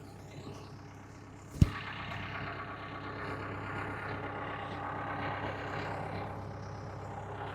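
A tractor engine idles with a low, steady rumble held at an even level, after a single sharp knock early on, with no voices present.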